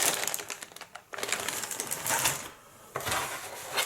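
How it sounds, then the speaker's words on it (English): Crinkling plastic bag holding the parts of an Airfix Heinkel 111 1/72 scale model kit, handled close up in several rustling, crackling bursts separated by brief pauses. "Inside, we have the usual big plastic bag full of all the parts."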